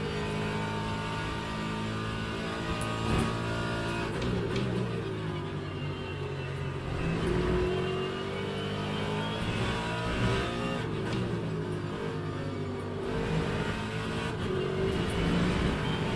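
Race car engine in Le Mans Ultimate revving hard through upshifts and downshifts, a continuous loud drone with rising and falling pitch sweeps and no talking over it.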